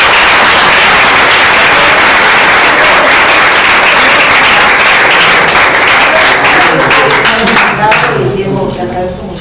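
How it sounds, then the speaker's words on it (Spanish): Loud, sustained applause from an audience, dense clapping filling the space before thinning slightly at the end. "pues si les puedo dar un gran aplauso."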